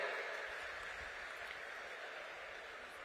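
Steady applause from a crowd at a political rally in Rohtak, Haryana, welcoming Home Minister Amit Shah, a continuous even wash of clapping at moderate distance.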